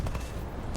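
Short burst of rapid cannon fire from an M.D. 452 Mystère IIA jet in a video game, a dense, rumbling rattle lasting under a second with no talking.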